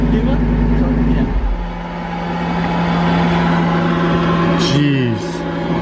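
A Lamborghini Huracan Super Trofeo race car engine idling with a deep steady hum, then blipped so the revs swoop up and drop sharply near the end; close and loud, with a brief hiss at the peak.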